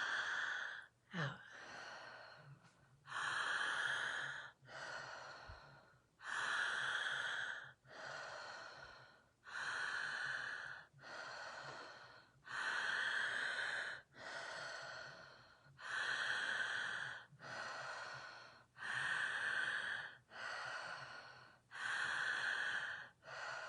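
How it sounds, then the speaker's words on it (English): Slow breathing in and out through the nose during a guided breathing session: long, airy breaths repeat in a steady rhythm, close and clear with brief quiet gaps between them, and no talking. "Let's spend 30 seconds breathing in and out through our nose."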